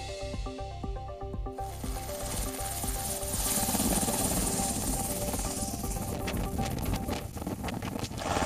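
A helicopter carrying a group of pilgrims toward the Kedarnath shrine, heard as a steady, loud rotor and engine roar with a rhythmic chop at the start and wind-blown rumble throughout.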